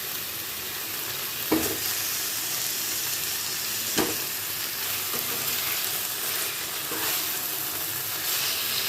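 Chicken pieces frying in a pan with beaten yogurt give a continuous bright sizzle and hiss, broken by a few sharp clinks of a utensil stirring against the pan.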